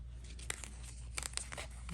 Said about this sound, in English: The cards shuffle so beautifully.